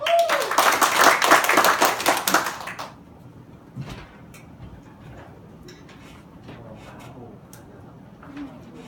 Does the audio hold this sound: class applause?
yes